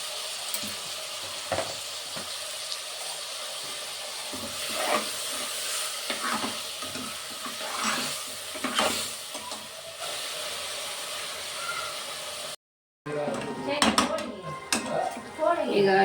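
Tomatoes mashed in a pan while cooking, with a spoon or masher scraping and clinking against the pan over gentle sizzling, several soft thumps, then a brief cut and a livelier clattering stretch near the end.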